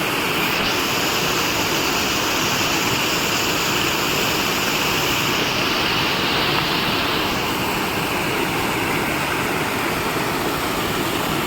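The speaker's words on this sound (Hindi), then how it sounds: "ये देखो ये रहा वाटरफॉल" A waterfall roars steadily and close by, a dense, unbroken rush of crashing water that fills the whole stretch without pause.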